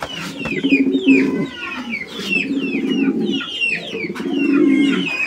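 Jumbo-size pigeons at a pigeon sale coo in low, repeated rolling bursts close by, while other birds chirp brightly in the background.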